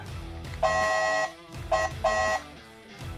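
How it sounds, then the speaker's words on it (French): A toy car horn on a Nissan Skyline GT-R R34 scale model honks twice, bright electronic tones with a short gap between them, loud and close over a low hum. "Pour le son, nous avons le klaxon"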